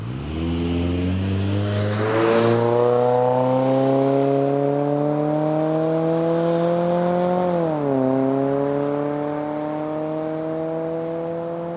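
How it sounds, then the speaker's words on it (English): A Subaru Impreza with a loud Nameless Performance exhaust and two 5-inch mufflers roars past, a deep droning engine note rising in pitch, dipping briefly, then holding strong as it goes by. "I just didn't expect it to be so loud with two 5-inch mufflers"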